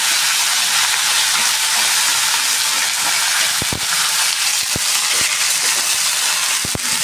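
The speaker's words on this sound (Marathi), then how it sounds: "आता आपल्याला टाकायचे त्याच्यात हे धुतलेले जे मक्की आहेत ना ते टाकून घेऊया" Washed corn kernels hit a hot pan and fry with a loud, steady sizzle, broken by a few sharp pops and clicks of kernels and stirring toward the end.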